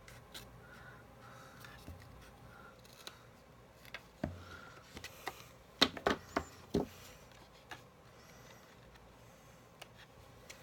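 Scissors cut through card paper in a short series of crisp, close snips near the middle, with quieter rustling and handling sounds before and after.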